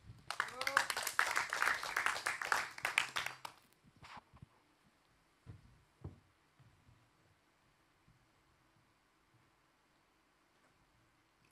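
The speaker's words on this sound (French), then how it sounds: "Ok, on t'écoute, on t'applaudit." An audience at an intimate sofa-style concert claps loudly for about three seconds, then the applause drops away quickly, leaving a quiet room with a few scattered knocks and shuffles.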